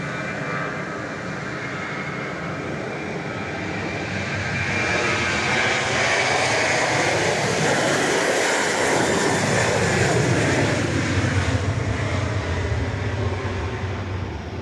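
A passenger airliner, Flight 4050 bound for Nashville, takes off from Dallas Love Field, its engines roaring steadily and swelling louder as it passes, then holding a broad, sustained rumble with no talk.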